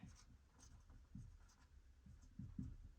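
Faint, scratchy handwriting strokes on a surface come in short, irregular bursts with pauses between them, with no voices over the quiet scratching.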